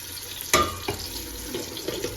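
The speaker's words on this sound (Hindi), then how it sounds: "तेल थोड़ा सा गर्म हो जाए तो मैं इसमें डालूँगी पहले प्याज" Chopped onion dropped into hot oil in a pan, giving a sharp hiss at the start that settles into a steady, moderate sizzle with faint clinks, and no talking.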